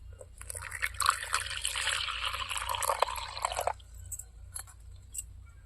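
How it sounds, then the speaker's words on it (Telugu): Water is worked into white jowar (sorghum) flour to make roti dough, giving a wet, splashy mixing sound for about three seconds before it drops to quieter, sparse handling noises. "నీళ్ళు పోసుకొని బాగా అయితే కలుపుకున్నాం"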